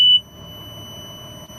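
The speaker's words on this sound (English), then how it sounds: "So it's an air brake warning." A truck's air brake warning buzzer gives a loud, sharp onset, then settles into a steady, thin electronic tone that holds alone at moderate volume for the rest of the moment.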